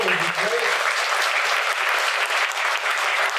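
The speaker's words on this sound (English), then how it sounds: "So another round of applause for our panel would be great." A room full of audience members applauds a discussion panel at a business event, producing a dense, steady wash of clapping that stays loud throughout, with a brief voice at the very start.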